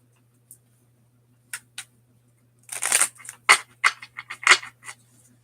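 A Mirror Truth Lenormand card deck is shuffled nearby, with a few isolated card taps followed by a quick cluster of crisp riffling snaps and flicks over a faint low hum.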